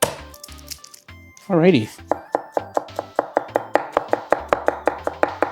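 Garlic cloves being chopped with a knife on a cutting board in a home kitchen: a brief spoken word, then a steady run of sharp, evenly spaced chops, loud and close.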